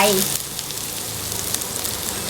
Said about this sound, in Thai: แล้วเราก็จะใส่หมูลงไป